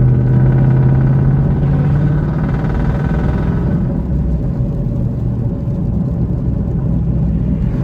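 An SRT Jeep engine idles with a deep, steady rumble and a low droning hum that eases off midway, close and continuous without any voices.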